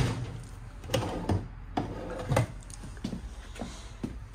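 Several wooden thuds and sliding knocks of drawers being opened and shut inside a 2025 Forest River Salem Hemisphere 325RL fifth-wheel trailer, close and moderately loud, spaced irregularly with quiet gaps between.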